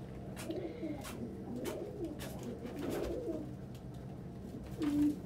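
Pigeons coo inside a loft in repeated soft, low, throaty calls spaced across a few seconds, fairly close and moderately quiet, with one louder coo near the end.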